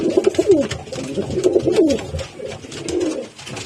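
Pigeons coo close by in a loft, a run of rolling, throaty calls overlapping in quick succession, with some rustling between them.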